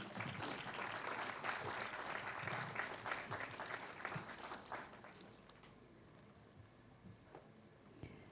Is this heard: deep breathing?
no